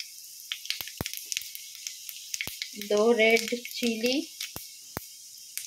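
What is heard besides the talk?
cumin and fennel seeds crackling in hot oil in a kadhai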